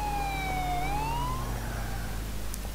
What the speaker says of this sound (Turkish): Polis arabası gelecek, gidecek.